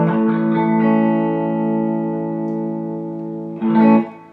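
A PRS S2 Starla electric guitar on its bridge pickup plays a distorted chord that rings out and sustains steadily, followed near the end by a second brief strummed attack.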